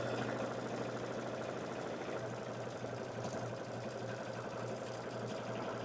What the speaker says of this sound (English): right now, we're going to stitch this down